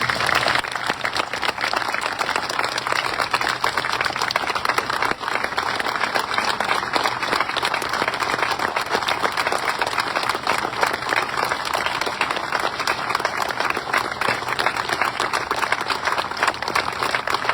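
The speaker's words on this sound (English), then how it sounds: "Let's have a round of applause for these." Steady, dense applause from a seated crowd at a D-Day remembrance ceremony carries on evenly for a long stretch, close and full, with no voices rising above it.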